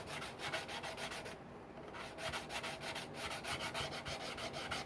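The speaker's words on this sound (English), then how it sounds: "sanding some of that down" Steady rhythmic sandpaper strokes rubbing back and forth on the edge of a paper file folder, close and continuous with a brief pause partway through.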